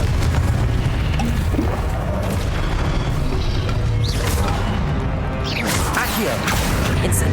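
Confringo fire-blast spell in Hogwarts Legacy gameplay, a loud, dense rumbling boom with crashing debris and mechanical clatter running throughout, including sharper bursts near the end.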